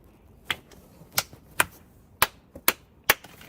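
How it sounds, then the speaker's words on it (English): Hand claps during a game developer showcase livestream, seven sharp, dry claps spaced unevenly and close to the mic, alone without talk. "So I'm gonna clap."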